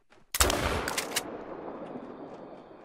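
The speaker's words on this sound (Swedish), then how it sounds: "Oj, jag hörde det skottet igen." A single rifle gunshot in the hunting video game The Hunter: Call of the Wild, a sharp loud blast followed by a second quick crack and a long fading rumble with no speech.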